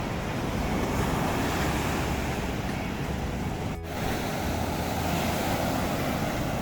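Ocean waves break continuously on the beach at San Juan, La Union. The surf makes a loud, unbroken roar mixed with gusty wind buffeting the microphone, with only a brief dip in the middle.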